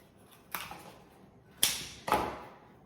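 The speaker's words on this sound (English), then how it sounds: "I'm going to cut a few more and sort of bend it round." Scissors snip through thin twigs for home decor, giving three separate crisp cuts, close and fairly loud, with quiet gaps between them.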